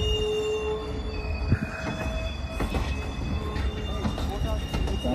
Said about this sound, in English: Amtrak 741 is coming.